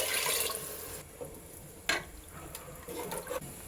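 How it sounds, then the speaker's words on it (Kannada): Water goes into a pressure cooker pot of mutton biryani, a close rushing pour at the start that stops, followed by a few brief splashes and clinks. "ಈಗ ಇದಕ್ಕೆ ನೀರು ಸೇರಿಸ್ಕೊತಾ ಇದ್ದೀನಿ"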